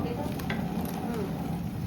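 Ginger paste stirred into a large 12 kg pot of sizzling mutton sambar gives a continuous, fairly loud, dense frying hiss with soft scraping of the stirring throughout.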